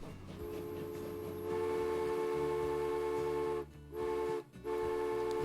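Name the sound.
steam train running in the video game Transport Fever 2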